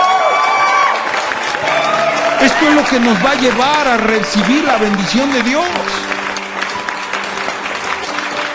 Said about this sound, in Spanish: ¿Alguien puede darle un fuerte aplauso a Dios?